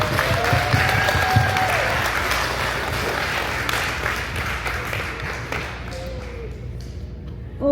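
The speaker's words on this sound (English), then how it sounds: "Give them some applause." An audience applauds a school band at a St Alphonsus concert, with dense, steady clapping and some cheering that fills the room, then gradually thins and fades toward the end.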